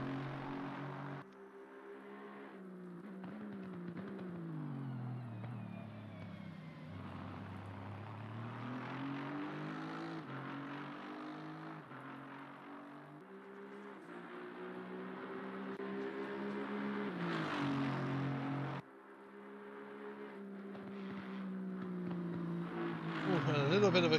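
The OTL Racing Aston Martin on a flying qualifying lap in Assetto Corsa Competizione at Spa, its engine droning steadily with rising and falling revs and gear shifts under continuous commentary.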